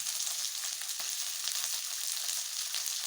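Green peas fry in hot oil in a pan, giving a steady close sizzle with faint crackles and the occasional stir, and no voices.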